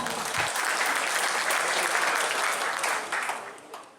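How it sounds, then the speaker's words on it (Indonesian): Crowd applause at a Pemuda Batak Bersatu declaration gathering in East Java, a dense, continuous wash of many hands clapping that holds steady and then thins out near the end. "tepuk tangan untuk kita semua"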